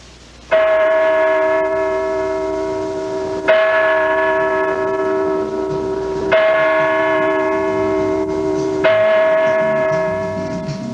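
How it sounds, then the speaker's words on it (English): A church bell in Portsmouth tolls four slow, loud strikes at night, each ringing out and lingering before the next. "the clip starts with the North Church bell ringing"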